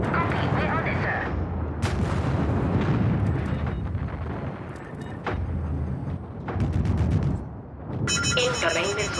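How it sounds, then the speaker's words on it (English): Incoming missile strikes and explosions rumble continuously in MechWarrior 5, heavy booms and sharp bursts layered over a dense roar of battle, with radio chatter and voices talking in places. "Incoming missile."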